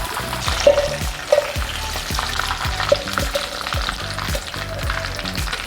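Chicken frying in oil with curry leaves for a Kerala catering-style chicken roast, a steady crackling sizzle broken by repeated ladle scrapes and occasional metallic taps as pieces are lifted out.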